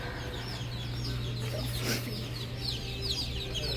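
Baby chicks peep in a quiet chorus of high chirps with some clucking, close by and soft, over a low steady hum.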